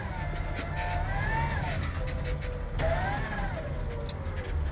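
A 1969 AMC AMX rally car's engine revs up and eases off twice as it accelerates, a steady rumbling drone with rising tones, heard from inside the car with faint voices underneath.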